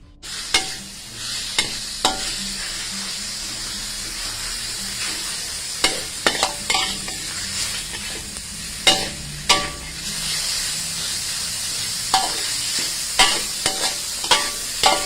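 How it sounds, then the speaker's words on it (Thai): Long eggplant and meat stir-fried in a pan, a steady sizzle with repeated scraping strokes and sharp clanks of a spatula against the metal throughout, close and fairly loud. "เนืสุกแล้วเราก็ใส่หน้าเขือลงไป ผัดมะเขือยาว"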